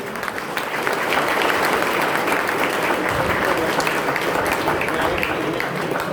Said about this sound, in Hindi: दोस्तों आप सबकी तालियां रुकनी नहीं चाहिए।